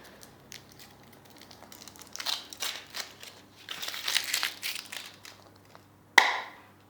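Foil wrapping of a Kinder Surprise chocolate egg crinkles and rustles as it is peeled open, in irregular close crackly bursts ending with a sharp crack.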